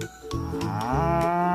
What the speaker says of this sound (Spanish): La vaca hace mu.